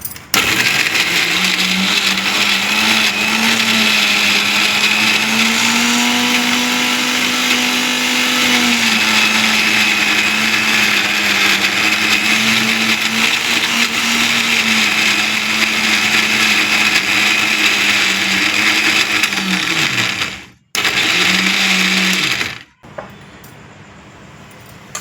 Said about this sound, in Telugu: వేసేసి దాంట్లో అలాగే మిక్సీ వేసేసి